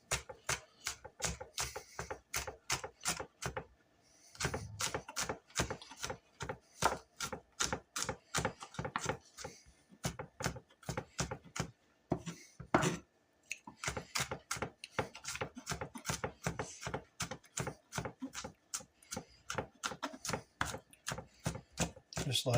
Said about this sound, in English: All right, we just chop this garlic up.